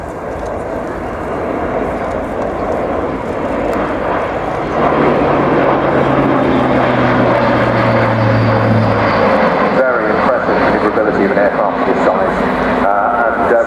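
An Airbus A400M military transport aircraft flies at an air show, its propeller engines making a loud broad drone that swells and shifts pitch under someone speaking.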